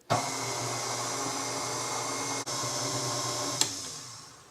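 An electric mixer mixing pumpkin whoopie pie batter whirs steadily at low speed, a continuous motor hum with a brief dip partway through, then winds down at the end.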